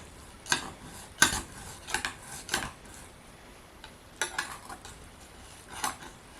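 A knife works through a whole cabbage for stuffed cabbage, giving sharp, separate crunching cuts and clacks against a board at irregular intervals, close and alone without talk.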